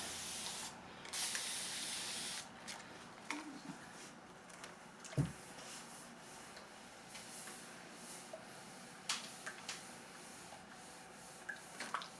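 Mary Ellen's Best Press starch sprayed onto quilt fabric pieces: a short hissing spray burst near the start, then soft, quiet rustles and scattered light taps as the fabric is handled, with no talking.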